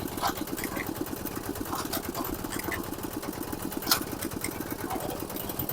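A diesel rotary tiller's engine runs steadily at idle-like speed with a fast, even mechanical chatter during a gear test, close and continuous throughout.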